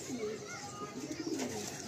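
A red checker racing pigeon coos softly and steadily over a continuous background hiss, its low murmuring calls faint and close.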